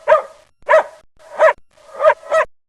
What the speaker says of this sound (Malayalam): ഒരു നായ അതാ നമ്മുടെ നേരെ പാഞ്ഞു വരുന്നു.